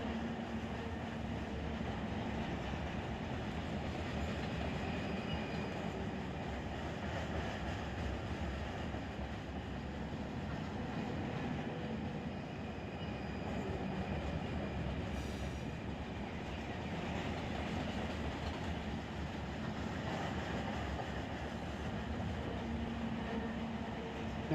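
A long freight train rolls along steadily in the Run 8 train simulator game, a constant low rumble of wagons with occasional clickety-clack and faint wheel squeal throughout.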